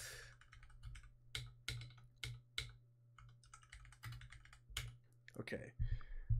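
Computer keyboard keys clatter in quick irregular bursts of close, crisp clicks while a player opens crates in Minecraft Factions, over a steady low hum.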